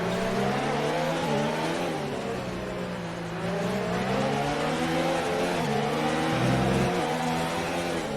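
Race cars in an Xbox racing game at the Brazilian Grand Prix give continuous engine roar and whine, pitch rising and falling through gear changes with cars passing close.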